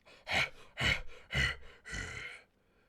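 Clive from Final Fantasy XVI breathing heavily: four rough, throaty breaths, close and distinct, evenly spaced, the last one longer and drawn out.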